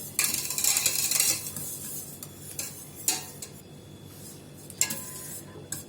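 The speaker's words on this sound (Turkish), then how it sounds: "iyice karıştırıyorum. Yumurtalar karışıncaya kadar iyice." Eggs stirred in a pot for yayla soup, with a utensil scraping and clinking against the sides in short uneven strokes, close and moderately loud, with no talk.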